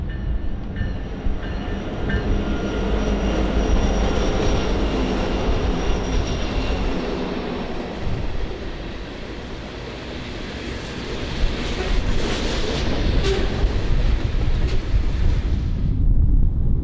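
A loaded Union Pacific grain train descends Wahsatch Grade near Emory, Utah, rolling steadily past, a continuous heavy rumble with grinding wheel noise and a droning whine of dynamic brakes, loud and close throughout.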